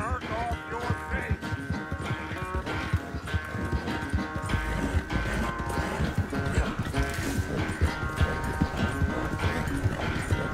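Horse hooves clip-clop in a steady riding rhythm in Red Dead Redemption 2, running throughout beneath game music and character dialogue.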